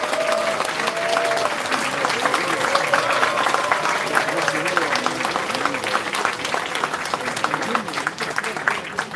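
A crowd at a regional party members' rally gives a lawmaker a sustained, dense round of applause, steady and fairly loud throughout, with voices murmuring beneath it.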